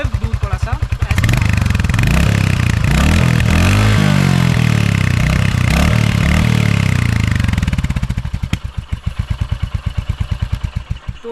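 A 2025 Royal Enfield Hunter 350 motorcycle engine idles with a steady thump, then revs up loudly several times before settling back to a rumbling idle.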